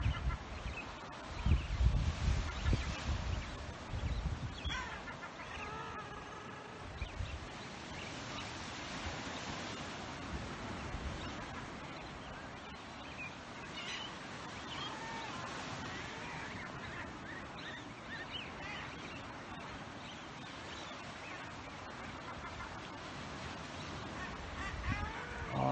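A seabird colony of guillemots or razorbills calls on the Great Saltee Island, Wexford, Ireland, a dense continuous mass of honking, growling cries mixed with wind noise, loudest at the start and steady throughout.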